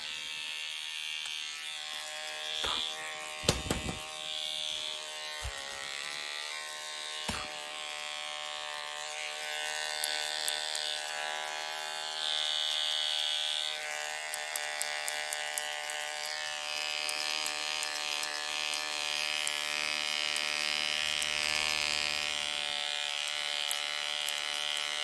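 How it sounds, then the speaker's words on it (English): An electric razor buzzes steadily up close while shaving, with a few sharp handling knocks early on before the drone settles into a continuous whine. "I do think I got a pretty close shave."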